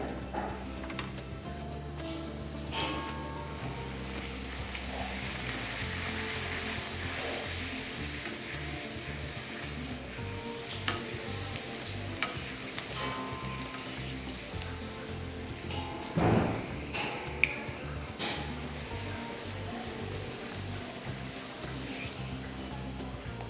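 Poori fries in hot oil, with a steady soft sizzle and bubbling that carries on throughout, dotted with small ticks and crackles and a brief louder flurry partway through.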